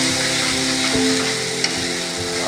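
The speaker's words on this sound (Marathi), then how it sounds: "चांगले फ्राय झालेले आहेत" Eggs frying in masala in a pan, a dense, even sizzle with a faint steady hum underneath and a single small tap, close up with no one talking.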